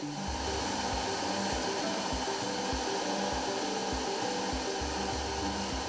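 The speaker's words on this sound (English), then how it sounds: "use these sanding machines to smoothen the sculptures" Sanding machines smooth carved flip-flop foam sculptures in a Kenyan workshop, a steady loud whirring drone with rough rubbing textures and faint repeated thumps, no voices.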